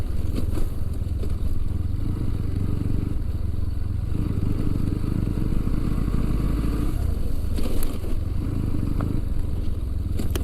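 A motorcycle rides over a rough, pitted dirt road near Gingee Fort, its engine rumbling continuously while the chassis rattles and clatters over bumps for about ten seconds, with a few sharper knocks along the way and no talking.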